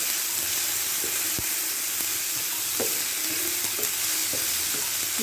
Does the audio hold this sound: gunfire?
no